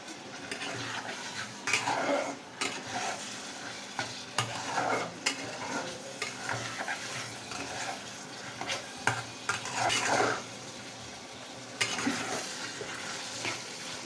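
Greens picked from a balcony being stirred with shrimp in a pan, a low continuous sizzle under repeated scraping and clattering strokes of a spatula against the pan, close and uneven, no talking.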